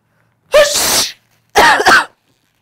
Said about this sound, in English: when someone is talking about you, you start to sneeze